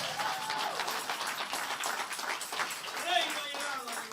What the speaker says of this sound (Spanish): Que alguien aplauda más fuerte al Rey de Reyes.